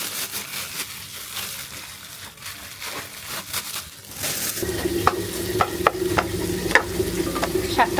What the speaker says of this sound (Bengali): পেঁয়াজ কাঁচামরিচ রসুন তেলের উপরে দিছি